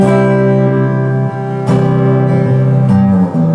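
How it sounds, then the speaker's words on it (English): A bright, sustained instrument plays a cheerful melody in C over steady chords, loud and clear with no voices. "Here's a nice happy C song."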